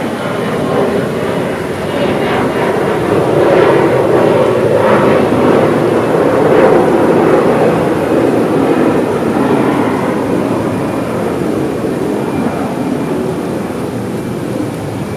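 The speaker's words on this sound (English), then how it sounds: "there was just an airplane" An airplane passes overhead as a loud, steady broadband roar that fills the whole stretch, swelling slightly in the middle and easing toward the end, with no clear talking.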